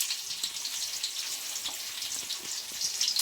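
Seasoning sizzles and fries in hot oil while a mango pulihora is being cooked, a steady bright crackling hiss with small pops throughout, no voices.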